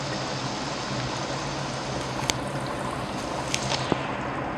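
Water boiling in a pot for chicken pulao, giving a continuous bubbling, rushing wash with a few small clicks on top, no talk.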